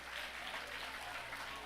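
Congregation applauding for Christ and a brother during a church service, a steady wash of dense clapping from many hands, moderately loud and continuous.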